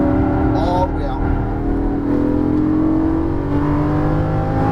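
A Lamborghini Gallardo LP550-2 accelerates hard out of a corner on a racing course, its engine revving up in a loud, climbing whine that holds steady near the microphone while an instructor speaks over it.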